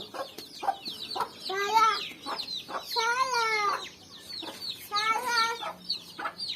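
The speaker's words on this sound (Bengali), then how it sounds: "ময়না কি হয়েছে মুরগিগুলাকে ধরতে চাও" Chickens clucking in a yard, with repeated nearby clucks and drawn-out squawks that come in bursts over a quiet background.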